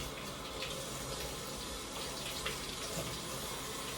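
Tap water runs steadily into a sink while peeled eggs are rinsed, a continuous splashing gush at moderate volume with no talking.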